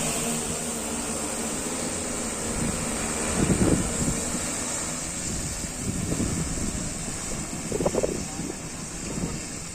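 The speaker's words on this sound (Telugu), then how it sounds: "గాలి" Wind blows across an open crop field, a steady hiss with soft gusty buffeting against the microphone that swells a few times.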